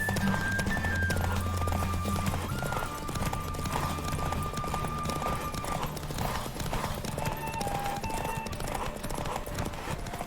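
Continuous rapid hoofbeats of a galloping horse in The Witcher 3 horse race, loud and steady, with game music and effects underneath.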